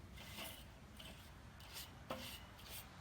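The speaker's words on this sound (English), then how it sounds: "I'll scrape off the grill." Faint rhythmic scraping strokes on a charcoal grill, several rough rasping passes at an uneven pace heard quietly at close range, with no talking.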